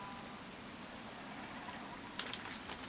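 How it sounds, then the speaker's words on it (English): Heavy rain falls steadily in the Wild Hearts video game, a dense continuous hiss with faint patters and a few brief sharper splashes near the end, with no talking. "a hard rain, this. Heavy and relentless."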